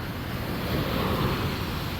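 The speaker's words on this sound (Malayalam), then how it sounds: "ഇപ്പോൾ കടലിന് നല്ല തിരയുണ്ട് കേട്ടാ" Sea waves surge onto the shore near Bekal Fort on the Kerala coast, a steady roaring wash of surf mixed with wind buffeting the microphone throughout the short stretch, with no voices.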